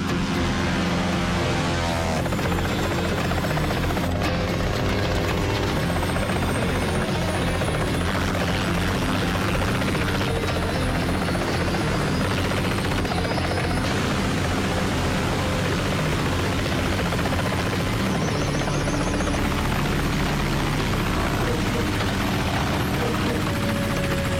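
A helicopter coming in to land in a French-language TV crime drama set in Palm Beach, a loud, continuous close rotor roar with a dense engine drone lasting throughout.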